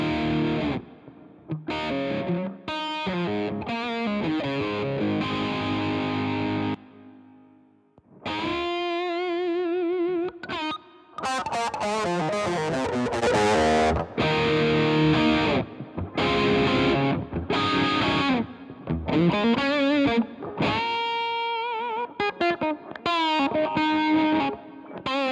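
Electric guitar played through a Mooer Micro Preamp pedal with its built-in speaker emulation on, giving a distorted, amp-like tone; chords and single-note lines ring out loudly and continuously with brief pauses, no talking.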